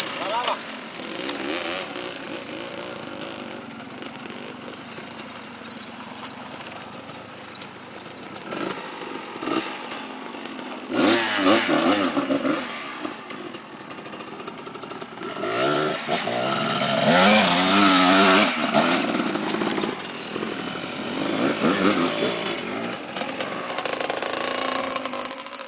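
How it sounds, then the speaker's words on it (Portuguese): A motorcycle engine revs repeatedly, surging louder toward the middle and end, with people talking over the roar. "não vai sobrar nada da sua moto, viu, Thiago?"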